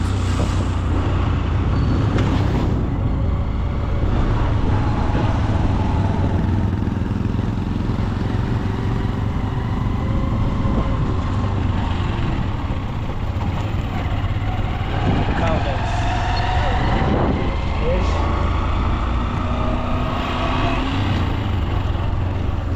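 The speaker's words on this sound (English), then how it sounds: "That's the truck transporting goods from Tanzania to my country here." A goods truck driving past on a road in Tanzania, heard as a steady engine rumble and road roar that rises and falls with passing traffic, continuous for the whole stretch under voices.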